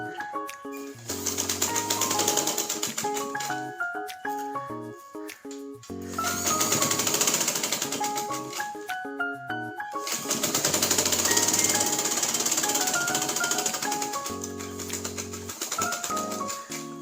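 Electric sewing machine stitching lace onto a bolster pillow cover, running in long loud bursts with a fast mechanical rattle, pausing briefly between runs, close by and with no talk.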